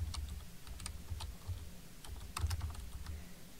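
Computer keyboard keys are tapped in quick irregular bursts of crisp close clicks while data is typed into Google Sheets, quiet and without talking.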